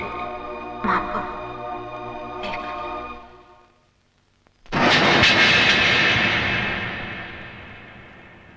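Steady engine drone fades to near silence with a couple of knocks, then an airplane roars in loudly and abruptly, its broad rushing noise slowly tapering off.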